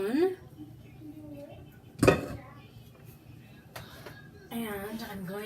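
A sturdy spatula scrapes thick peanut butter fudge off a metal spoon, giving a loud clattering scrape of utensils mid-way and a few lighter clinks, close by, while a person talks over it.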